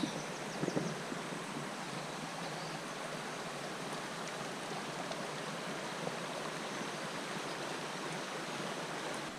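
A shallow, low river runs over stones along a moorland walking trail, giving a continuous close rushing babble with light wind noise throughout.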